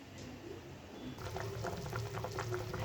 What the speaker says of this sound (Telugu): ఇదిగోండి చేపల పులుసు ఉడుకుతా ఉందన్నమాట